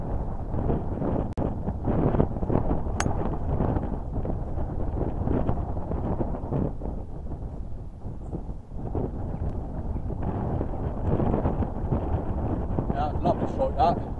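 Strong wind on South Winchester Golf Club buffets the microphone in a continuous low rumbling roar for the whole stretch, with gusts rising and falling and muffled talk partly buried beneath.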